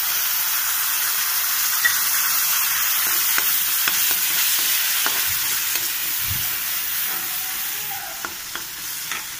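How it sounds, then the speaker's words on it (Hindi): Tomato puree goes into a sizzling pan of crispy potato and onion sabzi and is stirred. A loud, continuous hiss and sizzle runs throughout, broken by light taps and scrapes of the spoon against the pan. "और साथ ही इसमें हम ऐड करेंगे अपनी टमाटर प्यूरी"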